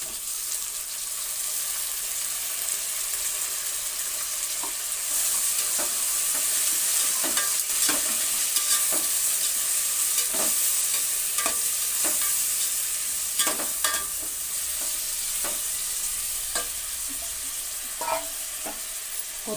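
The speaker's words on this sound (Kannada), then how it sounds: "ಈರುಳ್ಳಿ ಚೆನ್ನಾಗಿ ಕೆಂಪು ಬೇಯಬೇಕು." Onion and tomato fry in a pan for avalakki uppittu, giving a steady, close sizzle. Sharp scrapes and clicks of stirring come through the whole time, with no talking.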